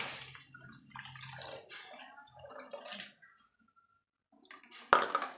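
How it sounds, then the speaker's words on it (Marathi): Water in a pan comes toward a boil, giving irregular gurgling, bubbling bursts with short quiet gaps and a louder splash near the end. "आता पाण्याला आपल्याला उकळी येऊन द्यायची."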